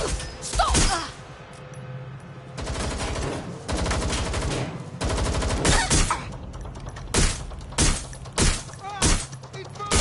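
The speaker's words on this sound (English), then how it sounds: "I will shoot you!" Gunfire in the Watch Dogs Legion video game, sustained bursts of automatic fire that break into sharp single shots and short volleys, loud and close, with bits of shouted speech between the shots.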